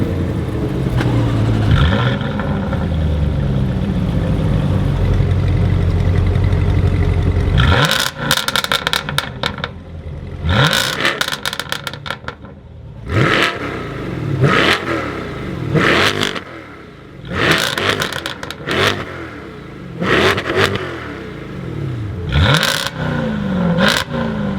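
A Jaguar F-Type with a 5-liter supercharged V8 and a Corvette C8 with a 6.2-liter naturally aspirated LT2 V8 rev loudly: a steady idle rumble, then a series of sharp throttle blips and roaring revs rising and falling, with no talk.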